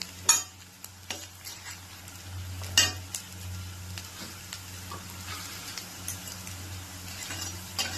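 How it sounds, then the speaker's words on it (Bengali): Chopped ginger fries in hot mutton fat, a steady close sizzle with repeated stirring scrapes and a few sharp utensil clinks against the pan. "মাটনের তেলের মধ্যে দিলাম আদা কুচি, একটু নেড়ে নিয়ে"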